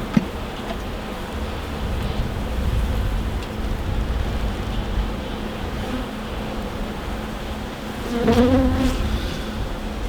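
Honeybees hum steadily from an open hive during a pre-winter inspection, a dense continuous drone close to the microphone that swells briefly near the end.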